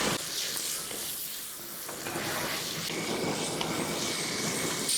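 Chopped onions and green chillies sautéing in a pan for a Kerala sweet potato curry, a continuous bright sizzle with occasional stirring scrapes, steady and close, with no voices.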